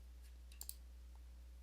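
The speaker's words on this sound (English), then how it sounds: "I could simply just do that through a right click." A single mouse right-click on a computer running flow cytometry analysis software, heard as a couple of faint, quick clicks in an otherwise quiet room with a low steady hum.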